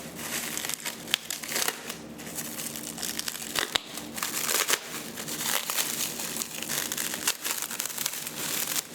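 Plastic shrink wrap being cut and pulled off an Axis trichome separator's control stand, a loud, close, continuous crinkling and crackling with sharper tearing bursts throughout.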